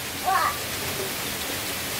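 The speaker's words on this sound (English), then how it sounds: "And the rain is finally steadily pouring." Steady rain pouring down outdoors during Hurricane Florence in the Carolinas, a continuous broadband hiss with a brief louder swell near the start.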